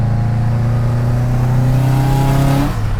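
A 400-horsepower Subaru Impreza RS engine drones loud and close as it accelerates, its steady rising hum holding under load before the pitch drops near the end with a shift; no talking.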